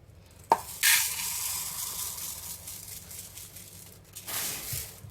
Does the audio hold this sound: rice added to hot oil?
yes